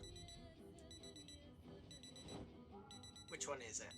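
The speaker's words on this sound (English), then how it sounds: "We do not want these alarms running." An electronic alarm beeps in the Project Zomboid video game, repeated high-pitched tones in bursts, fairly faint, with speech and game noise mixed in.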